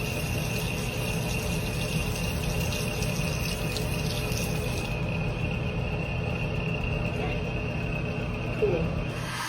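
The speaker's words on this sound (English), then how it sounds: "I'm going to run it under hot water for a few seconds" Skateboard bearings held under a hot running tap, the water pouring in a steady, loud broadband rush with a faint high squeal riding on top throughout.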